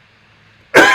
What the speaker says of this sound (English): I'm sorry I'm coughing